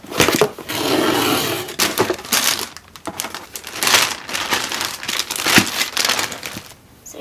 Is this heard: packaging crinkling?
yes